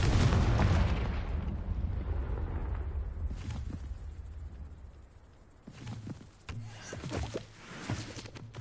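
Confringo spell blast in Hogwarts Legacy, a loud burst up front that tails off into quieter rumbling and clattering impacts.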